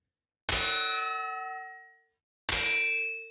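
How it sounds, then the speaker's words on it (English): Two bright metallic clangs made with reverb feedback in Ableton Live 12 ring out, each struck sharply then shimmering with a long resonant decay, the second hit arriving about two seconds after the first. "now we've really got some cool metallic percussion stuff going on"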